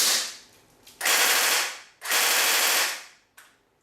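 Tokyo Marui MP5K PDW airsoft gun firing full auto on an almost dead 8.4 stick-type battery, two sustained buzzing bursts of about a second each with a short click after, close and loud with no talk.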